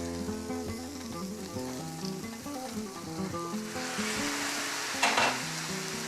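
Chicken pieces and chorizo sizzle and crackle in a paella pan, a dense, continuous frying hiss with some stirring noise and a brief louder burst near the end, over a tonal musical backdrop.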